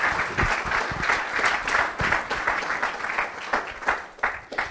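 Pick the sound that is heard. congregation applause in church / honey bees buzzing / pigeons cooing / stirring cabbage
congregation applause in church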